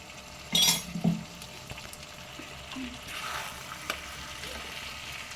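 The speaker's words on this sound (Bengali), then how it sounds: "হালকা একটু নাড়াচাড়া করে নেবো কুমড়োর ছক্কা আমরা কমপ্লিট" Pumpkin chhokka, a Bengali dish, cooking in a pan as roasted spice mix is stirred in, giving a soft low sizzle with a few clinks of the spoon against the pan near the start.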